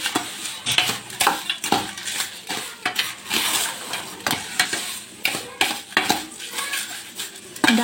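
Fried flattened rice (chira bhaja) being stirred and tossed in a metal pan, with repeated scraping and clinking of a spoon against the pan in an irregular rhythm, close and fairly loud.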